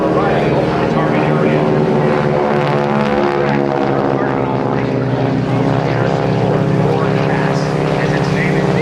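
GEICO Skytypers propeller planes flying over the Jones Beach airshow produce a loud, continuous droning engine roar with a steady buzzing tone that swells slightly, while an announcer's voice runs over it through a public address system.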